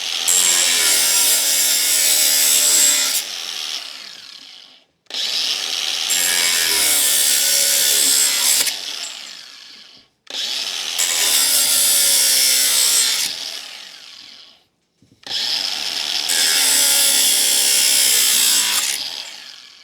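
DeWalt 18V brushless angle grinder cutting through a rusty metal bar on a workbench: four loud, shrill cutting bursts of about four seconds each, separated by brief pauses as the disc lifts off the steel.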